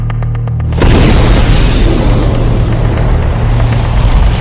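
A sudden loud explosion in a mined war zone of the Russia-Ukraine war bursts in at under a second, followed by a sustained heavy roar and rumble that fills the rest of the clip.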